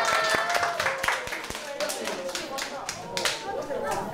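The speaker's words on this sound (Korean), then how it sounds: "박수하겠습니다" Small group clapping hands together at the close of a musical theatre workshop rehearsal, a brief spread of scattered claps, moderately close, with voices chattering underneath.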